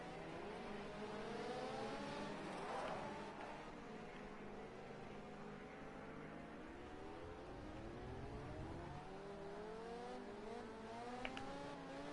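Several video-game racing cars pass one by one during a Braga career-mode session, their engine tones rising and falling as they overtake, layered over a steady background engine drone.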